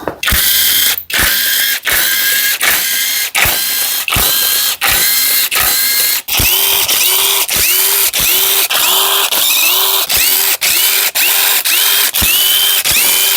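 An impact or ratchet power tool zips bolts off a supercharged Audi 3.0T engine during teardown, about twenty short rapid bursts in quick succession, loud and close, with a rising whine in the later bursts and no speech.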